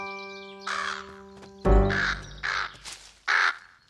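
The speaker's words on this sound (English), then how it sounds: "It's our friend, Mr. Crow." An animated cartoon crow caws loudly and close, four harsh calls in a row after a sustained musical tone, with no talking.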